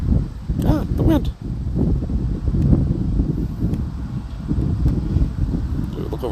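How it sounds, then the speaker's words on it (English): Outdoor wind at a car show in Wampsville, blowing steadily as a low rumbling roar with gusty buffeting on the microphone, continuous and fairly loud throughout with a brief lull partway. "Ah, the wind."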